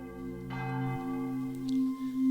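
A church bell rings out with sustained, ringing tones, a second strike layering over the fading hum of the first; fairly close and clear, no voices.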